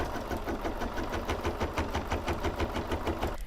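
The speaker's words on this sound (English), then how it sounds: "you can sit back and watch it stitch out." An embroidery machine couches wool yarn on a long-arm frame setup, giving a steady, fast rhythmic clatter of repeated stitching strokes, close and continuous throughout, with no talk.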